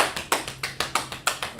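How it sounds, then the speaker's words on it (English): A class claps hands together in a quick, even rhythm, about ten sharp claps in under two seconds, close and crisp, with no talk. "So we're gonna clap it up for class"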